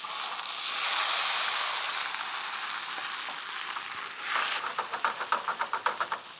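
Rum burning off in a hot pan while cooking Cuban dishes makes a steady, loud sizzle that swells, followed by a run of rhythmic scraping or stirring pulses near the end.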